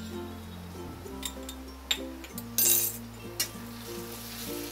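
Onion, garlic and ginger frying in a pan for a Maharashtrian dry bean-pod vegetable dish, a soft low sizzle with a few light clinks of a spoon against the pan, quiet and close.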